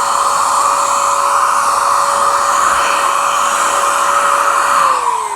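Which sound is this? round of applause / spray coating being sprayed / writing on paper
spray coating being sprayed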